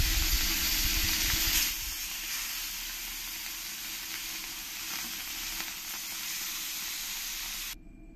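Rohu fish pieces frying in hot oil make a loud, steady, close hiss and sizzle that softens slightly after the first couple of seconds, then cuts off abruptly near the end, with no voices.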